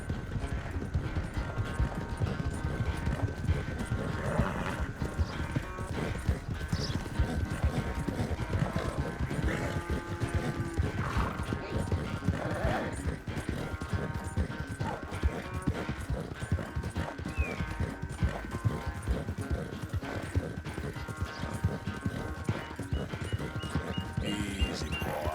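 Horse hooves clip-clop steadily through a race in Red Dead Redemption 2, a continuous rhythmic gallop with occasional whinnies over game music and ambience.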